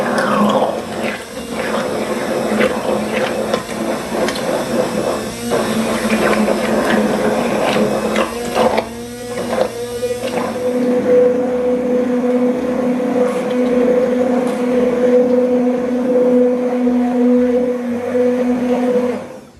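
A blender purees cooked sugar pie pumpkin, its motor whirring loud and steady for the whole stretch, with a brief change in pitch partway through as the blades work the thick mash.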